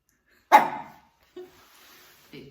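A dog barks once loudly and close, followed by two shorter, softer woofs, in a quiet indoor room while reacting to its image on a screen.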